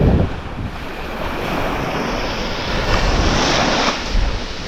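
Ocean waves break and wash steadily at Nipah beach on Pulau Nasi, Aceh Besar, a loud continuous roar of surf mixed with strong wind buffeting the microphone, with no voices.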